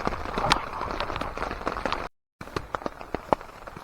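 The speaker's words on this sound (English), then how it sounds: "Well, it's raining again." Rain falling around a winter campsite after a snowstorm, a steady close patter with scattered sharper drops, briefly cut to silence midway before resuming.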